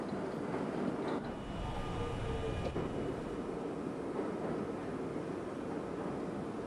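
Subway train running on local track in New York, a steady rumbling roar of rolling wheels and rail noise that fills the whole stretch with no talk.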